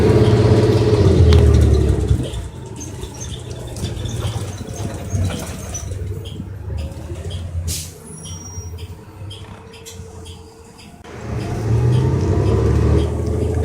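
Inside a 2017 Foothill Transit New Flyer XN40 bus with a Cummins ISL G engine, a loud low engine drone that eases while coasting, rises again, with a hiss of air brakes and rattles.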